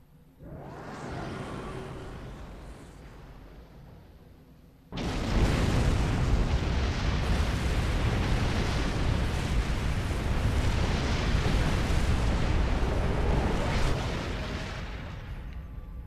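A huge, sustained explosion as the Planet Killer blows apart after a ship collision in Star Trek Online. A low rumble gives way to a sudden loud roaring blast that keeps thundering for about nine seconds before easing off.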